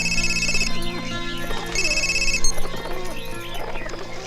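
A telephone rings in two bursts of bright trilling tone, heard over background music and scattered movement.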